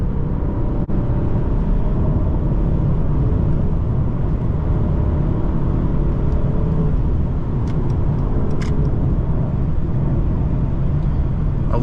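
Interior of a 2019 Mercedes-Benz CLS450 4MATIC under way, a steady low road and engine rumble that holds throughout, with a brief thump near the start and a few faint clicks later.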